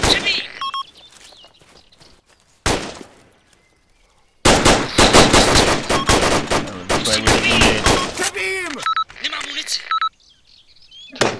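Bursts of rifle and automatic gunfire in the military video game Arma II, rapid sharp cracks in dense clusters broken by quiet gaps, with a few isolated shots and some game effects mixed in.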